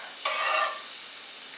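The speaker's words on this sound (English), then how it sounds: "I'm just gonna mix this up" Gluten-free pancake batter being stirred briskly in a bowl, a short close burst of wet scraping and whisking that fades to a quiet hiss.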